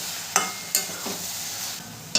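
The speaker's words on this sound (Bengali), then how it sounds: "আবারও আমি ভালো করে একটু নেড়ে নেব।" A spoon stirs bottle gourd and prawn curry in a pan, with a few sharp scraping clinks standing out over a soft, low simmering sizzle.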